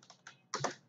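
Computer keyboard keys pressed while typing a comment, a few quick clicks followed by a louder cluster of keystrokes, close and alone.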